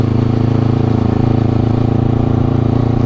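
A 2019 Honda CBR250RR two-cylinder motorcycle engine running on a test ride, holding a loud, close, steady buzzing drone with an even rapid pulse and no change in pitch.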